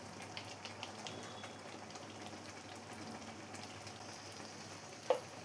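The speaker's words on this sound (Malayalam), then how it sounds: "ഇപ്പോൾ കറി നന്നായി തന്നെ തിളച്ച് വന്നിട്ടുണ്ട്." White peas curry bubbling in a pan on the stove: a faint, steady simmering and bubbling with small soft pops, ending with one brief louder clink.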